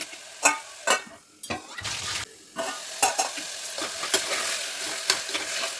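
Tomato and eggplant pieces frying in oil in a home kitchen pan, with a steady sizzle and repeated scraping stirs of a spoon at an irregular rhythm, close and fairly loud, no talking.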